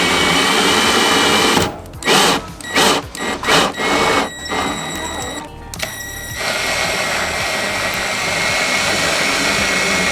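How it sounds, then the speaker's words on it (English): A loud, steady mechanical whir runs throughout, broken by several short bursts of a power drill driving screws into a Tesla Model 3 front bumper to fit a carbon lip, near the start. "drill or attach the screws. Use the power tool, attach it with the ring"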